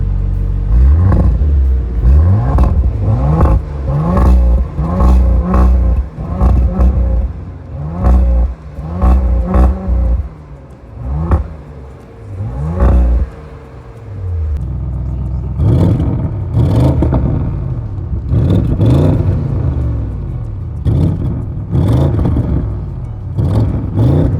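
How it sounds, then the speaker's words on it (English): A 2024 Audi RS4 Avant Competition revs repeatedly at standstill, its exhaust rising in loud, close blips that climb and fall, bouncing off a soft rev limiter before a steadier run of revs. "let's listen to the exhaust pipes"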